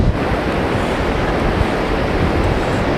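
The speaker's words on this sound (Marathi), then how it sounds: "समुद्राच्या लाटा बघा कसा आलेत" Sea waves wash continuously onto Nagaon beach in a loud, steady roar of surf with wind buffeting close to the microphone and no pauses.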